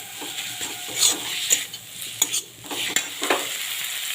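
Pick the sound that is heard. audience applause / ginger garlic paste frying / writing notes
ginger garlic paste frying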